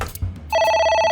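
A phone in the video game AI: The Somnium Files rings with a sharp electronic tone that starts abruptly after a brief muffled bump and holds loud and steady to the end.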